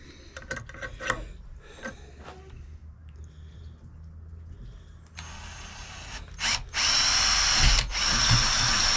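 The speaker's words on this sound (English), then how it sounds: "and drill you another hole." Power drill boring a hole in a snare part: clicks and handling first, then the drill spins up loud and close, whining steadily through the end with no talking.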